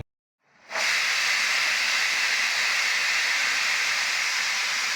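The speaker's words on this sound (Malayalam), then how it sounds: "കുക്കറിൻ്റെ ആദ്യത്തെ വിസിലടിച്ച് ഗ്യാസ് നമുക്ക് ഓഫാക്കാം" A kitchen pressure cooker cooking jackfruit avial on a gas stove suddenly releases steam, a loud, steady hiss with a whistling edge that starts after a moment of silence and keeps going unbroken to the end.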